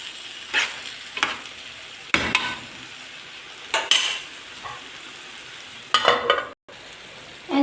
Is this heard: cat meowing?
no